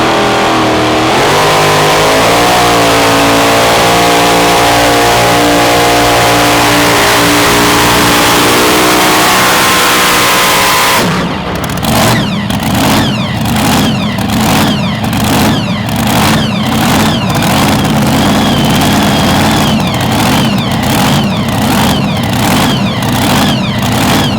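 A loud, heavy pulling-tractor engine at a 2,050 lb class tractor pull revs hard with a rising harmonic drone, then switches to rapid rhythmic pulsing bursts as it keeps roaring.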